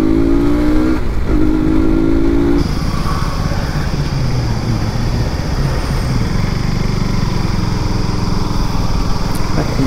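Motorcycle engine droning continuously while riding on a road trip in hot weather, with a steady close rumble, a brief rising rev at the start and wind noise throughout.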